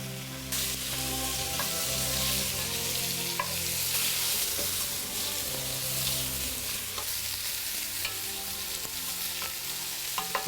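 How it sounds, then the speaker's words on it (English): Meat sears in a hot pan with a steady, close crackling sizzle and occasional stirring clicks, with no talking. "You want to start off with a hot pan. You want to sear it really good."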